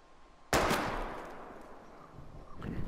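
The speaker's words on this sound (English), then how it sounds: "We're gonna shoot all these bottles without wasting a single bullet." A single sharp gunshot fired at bottles in the video game Life is Strange, a loud close crack with a decaying tail, followed by a fainter rustling impact near the end.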